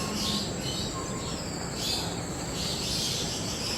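Birds chirp and tweet outdoors in the morning, scattered soft calls over a steady wash of background hiss, with faint insect buzzing and no voices.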